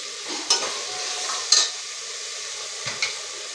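Egg biryani masala frying in a pot, a steady soft sizzle with a few sharp scrapes of the spoon as it is stirred, close and fairly quiet.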